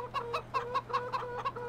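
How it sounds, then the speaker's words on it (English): Chickens in a mod chicken coop in Farming Simulator 2015 cluck in a steady rhythm of about eight short, close clucks over a low hum, with no talk. "There's all my chickens."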